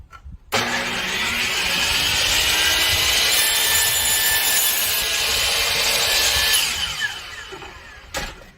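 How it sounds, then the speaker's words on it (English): A DeWalt miter saw cutting through wood: the motor spins up sharply, holds a loud, steady whining cut for several seconds, then winds down, followed by a short clunk. "this is a pretty easy job for this miter saw"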